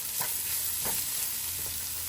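Vegetables, string beans among them, sautéing in hot oil for Filipino lumpiang shanghai, a steady close sizzle with a few soft stirring scrapes and no talking.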